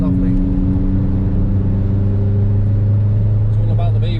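A tuned 190 bhp Ford Fiesta ST500 engine drones steadily and loudly from inside the car on a country road, while people talk over it.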